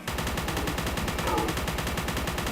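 Rapid automatic gunfire from a gun in the horror shooter Forgive Me Father, a dense, loud, unbroken stream of shots firing steadily for a couple of seconds.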